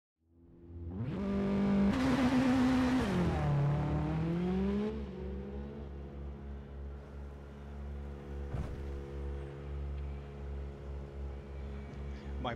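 A WRC 7 rally car engine climbs to a loud, rising rev and then dips. It settles into a lower, steady drone with a brief whoosh partway through.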